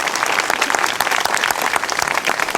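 Loud, dense audience applause, many hands clapping continuously and close, forming a steady roar with no talk over it.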